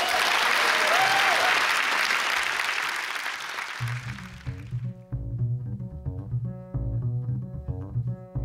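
At a folk music award show, an audience claps loudly for several seconds, then the applause fades as a band starts playing, with guitar and a steady beat taking over.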